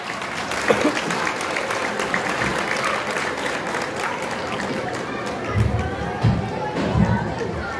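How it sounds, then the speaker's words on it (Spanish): Applause from an audience greeting performers from Escuela Eira Vargas Carranza and their cimarrona band at a school talent celebration, steady clapping mixed with crowd chatter and a few louder bursts near the end. "Vamos, que se escuche ese aplauso fuerte."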